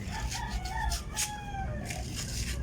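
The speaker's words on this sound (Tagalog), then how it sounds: "Papakain nga muna ako sa manok." Chickens cluck and a rooster crows amid a busy farmyard, with several birds calling at once over steady background noise.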